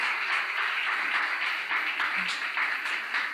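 Church congregation applauding during a sermon, a steady dense wash of clapping from many hands filling the room, with crowd voices mixed in throughout.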